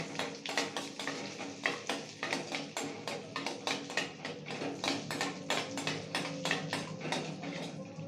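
Cloves, cardamom and cumin sizzle in ghee for a tempering, a close, rapid series of crackles and spoon taps pulsing at a quick regular rhythm over a steady frying hiss, with no talk.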